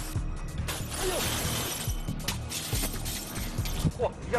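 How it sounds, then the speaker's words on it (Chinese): Tempered glass 5 mm thick shatters under a spring-loaded window-breaker pen, a sharp crack followed by a spray of glass fragments over a noisy background with voices nearby. "厚度为5毫米的钢化玻璃瞬间就被破窗笔击碎了，毫不费力"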